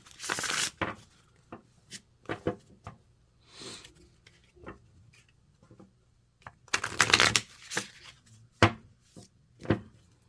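Tarot cards being shuffled by hand, bursts of crisp riffling and papery slaps in irregular clusters with quiet gaps between, close and moderately loud.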